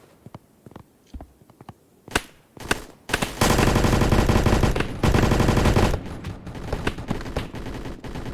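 Gunfire in the video game Blackhawk Rescue Mission 5: scattered single shots build into a long, loud automatic burst, then more intermittent shots, up close.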